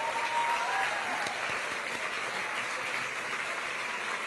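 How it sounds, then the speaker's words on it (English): An audience at a speaking event applauds in a continuous, fairly distant wash of clapping that holds at an even level throughout. "Let's give them all a big round of applause."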